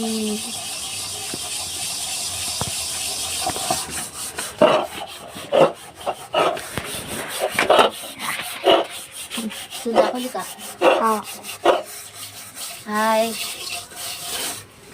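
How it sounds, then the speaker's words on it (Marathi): Repeated rough scrubbing strokes, close and fairly loud, in an irregular rhythm with occasional clinks and faint background sounds. "आता भांडी घासत आहे मी"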